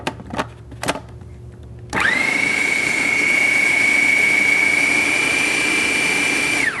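A food processor blending hummus starts after a couple of faint knocks, then runs as a loud, steady high whine with a dense grinding roar.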